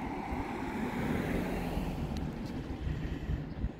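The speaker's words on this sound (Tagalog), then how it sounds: "Malakas konti ng hangin." Wind blows steadily outdoors during a spring walk, a continuous low rumbling gust noise buffeting the microphone with no talking.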